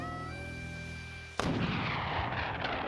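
A single loud shotgun blast in a Wild West reenactment, preceded by a quiet humming background, then a sharp crack followed by a long rumbling decay.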